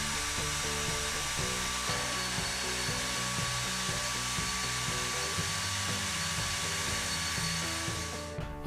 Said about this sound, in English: Next I drilled the aluminium post to allow it to be connected onto the plate.